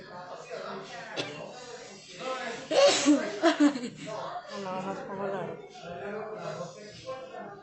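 Someone sneezes in quick succession, a few sharp bursts clustered mid-way, amid chuckles and conversational talk from people nearby.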